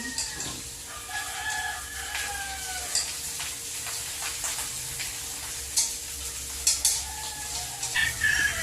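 Cooked rice stir-fried with garlic and Star margarine into sinangag, with a steady sizzle and repeated scraping of the spatula, while a rooster crows and clucks nearby over the cooking.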